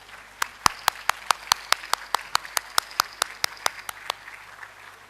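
Applause at an annual award ceremony for teachers and parents, heard as a steady series of about twenty sharp, evenly spaced claps standing out over a quiet hall and slowing slightly at the end.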